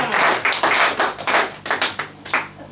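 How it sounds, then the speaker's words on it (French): Church congregation clapping at a Sunday service, a close, loud run of sharp claps in an uneven rhythm that grows choppier and thins out toward the end. "Applaudissons très fort pour lui."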